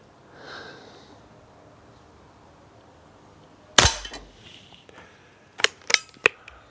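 A Weihrauch HW40 PCA .177 air pistol fires one sharp, close crack at a target, followed a couple of seconds later by several quick clicks and handling knocks, with no talk.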